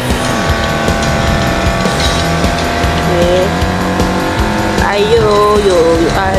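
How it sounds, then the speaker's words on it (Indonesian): A car drifts in NFS No Limits, its engine roaring steadily while the tires let out long wavering squeals, loudest toward the end, with game music and effects layered underneath. "Drift, nice sekali. Drift lagi."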